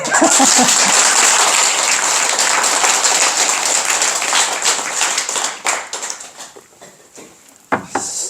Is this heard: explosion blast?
no